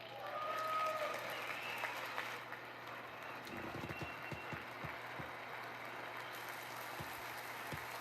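Applause ripples through the chamber during a State of the Union address, a broad crowd clatter that swells briefly, then thins to scattered, fading claps with a few sharp individual hands.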